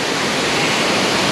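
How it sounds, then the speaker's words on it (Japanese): Fukuroda Falls at night in Ibaraki, a dense, steady rush of falling water, loud and close, filling the whole moment with unbroken roar and no voices. "どうですか、夜の袋の滝は。"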